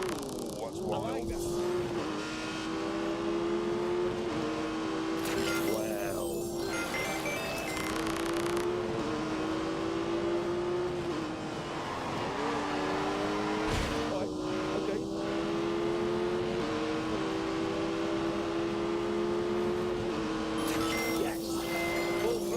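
A car engine held at full throttle in The Grand Tour video game, a loud sustained roar whose pitch climbs through repeated gear changes, with people talking over it at times.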